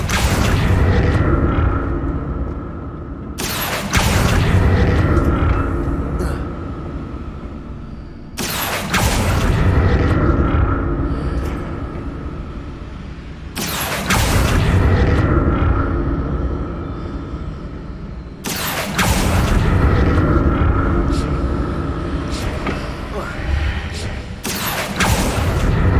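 Confringo blasting spells go off in Hogwarts Legacy as five or six loud booming explosions, each followed by a rumbling decay, spaced several seconds apart.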